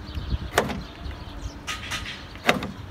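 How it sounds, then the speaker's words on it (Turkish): A car's repaired central door lock motor runs in short bursts, giving a few sharp mechanical whirring clunks spaced about two seconds apart, close and fairly loud, with no talk. "bakın kilit de işte şimdi artık çalışıyor"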